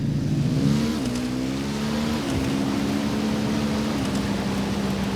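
A motorbike engine revving in the video game Ghost Recon Wildlands, a loud, continuous droning roar whose pitch rises and shifts as the throttle changes, heard alone and close.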